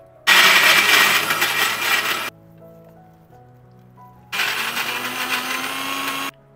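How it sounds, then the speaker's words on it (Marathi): A mixer grinder roars loudly in two bursts of grinding chillies, ginger and curry leaves, about two seconds each, separated by a quiet pause with a low hum. "आता हे सगळं मिक्सरमध्ये छान वाटून घ्यायचं आहे."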